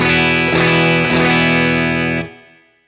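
A guitar amplifier cranked at full master volume pushes a sustained, heavily driven chord with thick distortion, swelling slightly before cutting off and ringing out into a short decay; no talking over it.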